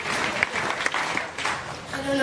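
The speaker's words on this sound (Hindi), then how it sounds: "तो एक बार रोशनी के लिए जोरदार ताली बजाइए" Clapping at a Jan Suraaj Party gathering greets a woman named Roshni, a modest burst of audience applause mixed with scattered voices, uneven and somewhat distant, with a tone at the end.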